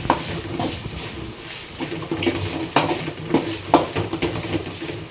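Curry leaves sautéing in a pan for a broiler chicken curry, with continuous crackling sizzle under repeated scraping stirs and occasional sharp utensil knocks against the pan, close and moderately loud.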